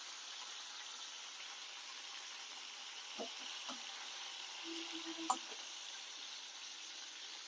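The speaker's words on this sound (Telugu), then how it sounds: "మంచిగా నూనెలో ఉడికిపోతాయండి అవి" Cumin seeds fry in oil for a peanut, sesame and mint chutney, giving a faint, steady sizzle with a few soft clinks of a utensil near the middle.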